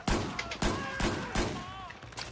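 Gunfire in the Battlefield 4 video game comes as several sharp, loud shots in quick irregular succession, with ringing tonal game effects between them.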